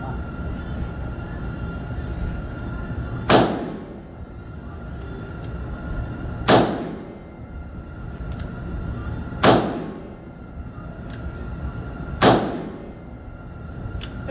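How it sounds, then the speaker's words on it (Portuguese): Four loud shots from a Taurus RT444 .44 Magnum revolver with a 6.5-inch barrel, fired at regular intervals of about three seconds from 7 metres, each a sharp crack with a ringing tail, amid faint background noise. "Disparos a 7 metros, 6 tiros."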